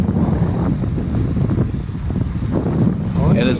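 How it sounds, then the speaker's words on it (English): Strong wind buffets the microphone during a hot, humid group bike ride in Honea, Texas, a continuous loud rumbling roar with faint voices buried underneath. "And it's very windy."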